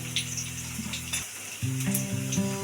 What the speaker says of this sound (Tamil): இந்த மாதிரி கோபி ஃப்ரை ஆகிட்டுருக்கு